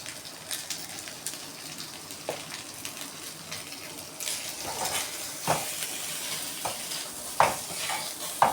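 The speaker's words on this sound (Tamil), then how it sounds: "நல்லா கரண்டி வச்சு கிண்டி விட்டுக்கோங்க" A ladle stirs fried taro (seppankizhangu) with chili powder in a pan, a soft steady sizzle under irregular scrapes and metallic knocks that grow busier and louder toward the end, with no voices.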